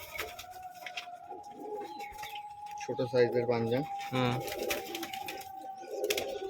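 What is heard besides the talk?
pigeons cooing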